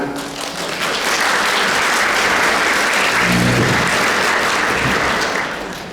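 An audience in a hall gives a talk on history a dense, steady round of applause that swells in quickly, holds loud for several seconds, then starts to fade.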